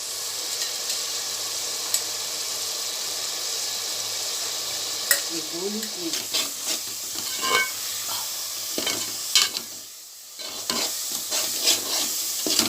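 Dry masala for an okra gravy with tamarind fries in a pan, a loud steady sizzle with stirring scrapes and clatters in the middle, a brief dip, then hissing again.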